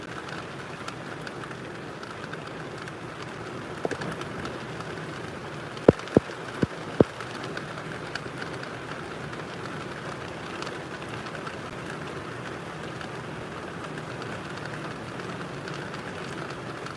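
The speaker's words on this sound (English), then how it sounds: "When it rained like this for this long" Heavy rain pours down steadily for a long stretch, a dense even hiss of drops on surfaces with a few sharp isolated knocks, no talk.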